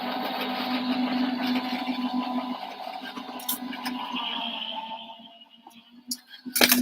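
Sewing machine stitching fabric, a close steady motorized whir with fine rapid ticking that runs for several seconds, eases off, then ends with a few sharp clicks and handling noises.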